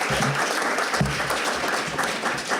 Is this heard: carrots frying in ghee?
no